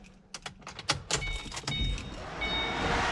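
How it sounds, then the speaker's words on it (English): An intercooler pump and electric cooling fans come on in a Ford Shelby GT500 switched to accessory, preceded by a few clicks and rattles, then a steady rising whir and rush of air that fills the space close by. "now what we should hear is on accessory, the intercooler pump and fans should come on"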